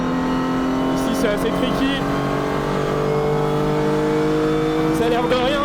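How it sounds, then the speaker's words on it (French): Renault RS01 race car driven up a wet mountain hill-climb course, its engine droning loud and close with shifting pitch while a faint tac-tac-tac of traction control cuts in on corner exit; someone speaks over it. "Je sais pas si vous entendez tac tac tac quand on ressort. C'est le traction control qui se met en route."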